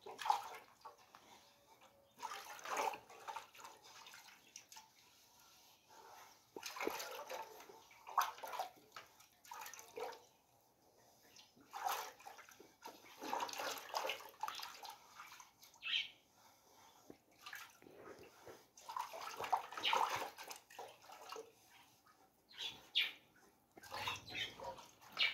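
Running water splashes and trickles irregularly over hands, soft and close, with quiet gaps between bursts and faint chirps in the background.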